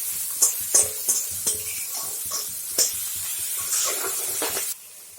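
Vegetables frying in a pan for fried rice make a loud, hissing sizzle broken by sharp scrapes and clatters of stirring, with the sizzle cutting off near the end.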